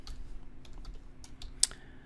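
Quick taps on a computer keyboard as a file name is typed, a handful of light, close keystrokes in an uneven burst with one sharper key near the end, and no talking.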